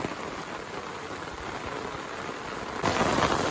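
Rain falling steadily outdoors during a Sambalpuri village farm vlog, a dense even hiss of drops that swells louder near the end, with no voices.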